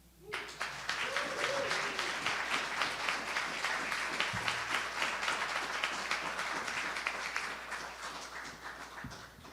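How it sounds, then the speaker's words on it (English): Audience applause at a town hall meeting in Houston, a steady, dense wash of clapping that starts abruptly and holds at full strength for nearly ten seconds before easing slightly at the end. "let's give him another round of applause."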